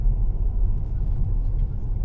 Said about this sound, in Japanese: フリーウェイをホノルルに向かって走っていきます。